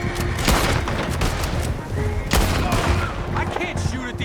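Rapid gunfire fills a shootout in the video game Red Dead Redemption 2, with loud cracks and heavy booms in dense overlapping volleys and shouting voices mixed in.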